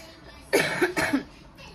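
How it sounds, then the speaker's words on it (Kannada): Two close coughs in quick succession, fairly near, against a quiet background. "ಇನ್ನೂ ಕೆಮ್ಮು ಕಮ್ಮಿನೇ ಆಗಿಲ್ಲ"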